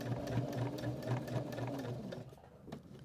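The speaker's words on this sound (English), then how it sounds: "I'm just going to stitch a little, adjust, then stitch a little more and go around the curve." A sewing machine stitches the seam of an upcycled shirt in quick, close bursts of rapid rhythmic chatter, then slows and stops near the end.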